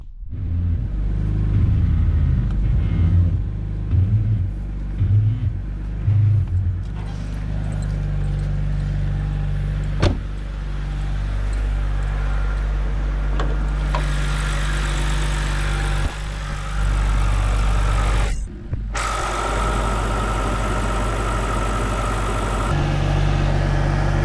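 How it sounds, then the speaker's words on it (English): A BMW car with a rebuilt N52 engine is driven, giving a steady, loud engine rumble and road noise that continues throughout, with brief shifts in tone and a short dropout near the end; no talking. "I'm just going to drive it around and see if that helped us with our power steering leak."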